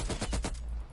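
Light machine gun firing in Call of Duty: Cold War, a short loud burst of rapid shots with heavy low-end thump, tapering off after about half a second.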